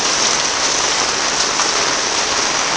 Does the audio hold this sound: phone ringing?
no